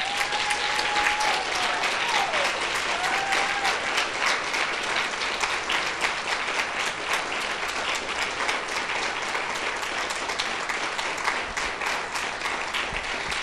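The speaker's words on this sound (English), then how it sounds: "if you wouldn't mind just giving her a round of applause" An audience at a talk on women, addiction and domestic violence gives sustained, dense applause that stays loud and even for the whole stretch.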